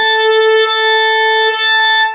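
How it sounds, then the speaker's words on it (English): A violin bowed with too much bow and too little pressure gives a thin, airy, wispy sustained note. It holds steady and close for about two seconds with no talking. "if I'm using too much bow but not enough pressure, it's going to sound wispy a little bit."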